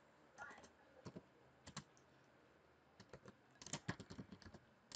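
Quiet keystrokes on a computer keyboard come in short irregular bursts of clicks with pauses between, close and faint.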